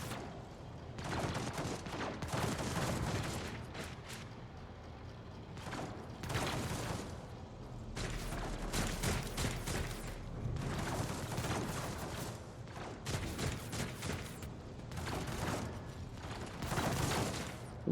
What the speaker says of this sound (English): Who the fuck is shooting who?